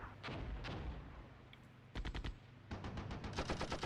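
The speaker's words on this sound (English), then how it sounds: "Artillery here is coming in nicely" Artillery and automatic gunfire in the tank war game Armored Brigade 2: a dense barrage of overlapping shots and blasts, then rapid bursts of machine-gun-like fire, loud and continuous without any voices.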